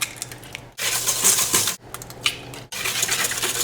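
A whisk beats eggs into sugar, melted butter and oil in a bowl, giving fast, rattling, clicking strokes in close bursts separated by short pauses, with no one talking.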